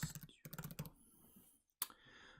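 Quick keystrokes on a computer keyboard, a close burst of clicks, then a pause before a single sharp click and a few lighter taps, with no voice present.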